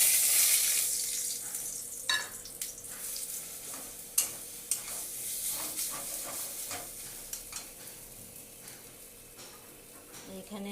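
Ground chana dal paste frying and being stirred in a pan for Bengali cholar daler naru, with a steady sizzle and repeated scraping strokes of the spatula, close and moderately loud, no talk.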